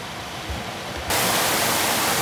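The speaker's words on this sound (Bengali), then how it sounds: "অনেক জোরে বৃষ্টি, রাস্তাঘাটে পানি জমে গেছে।" Heavy rain falls on roads where water is pooling, a dense, constant hiss that suddenly grows louder and brighter about halfway through. The downpour stays close, with no voices.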